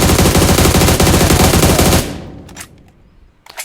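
Sustained automatic gunfire in the battle royale game BGMI, a dense rapid burst for about two seconds that cuts off, followed by a few faint distant shots.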